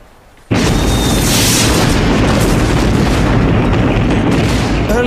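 A massive German artillery barrage on the Western Front, thousands of guns opening fire at once, bursts in abruptly after a brief hush into a loud, sustained roar of overlapping booms and rumbling blasts.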